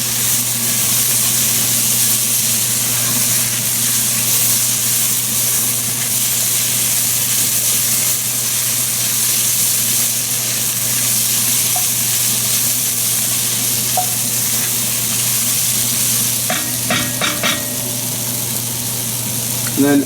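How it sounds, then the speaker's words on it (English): Garlic sizzles in a hot pan with stewed vegetables for a keto goat stew, a loud, constant frying hiss up close with a few stirring clinks near the end. "at this point we'll add the garlic. Cook for a few seconds, about maybe 30 seconds till it's fragrant."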